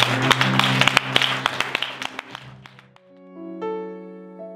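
A church congregation applauding the Lord during a sermon, a burst of sharp, fairly close claps for about three seconds, fading into sustained organ or keyboard chords.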